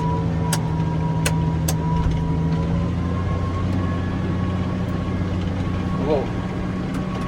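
A heavy tractor engine drones steadily while ploughing a field with a Veles Agro 3+1 plough, a low, rumbling hum, close by and continuous, with faint mechanical clanks over the top.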